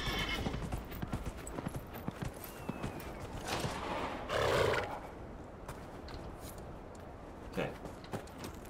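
Horse hooves clip-clop in a steady galloping rhythm in the Dragon Age Inquisition video game, with a whinny and rushing game ambience, while someone talks over it.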